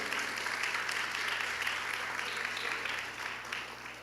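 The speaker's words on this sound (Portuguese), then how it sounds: "aplauda Jesus" A church congregation applauding during a sermon, steady dense clapping that holds level for several seconds before thinning slightly at the end.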